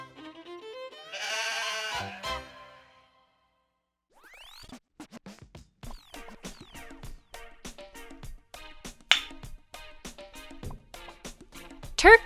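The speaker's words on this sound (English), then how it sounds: "Goat." A cartoon goat gives one short, wavering bleat, followed by a quiet gap and then a run of rapid clicks and chirps.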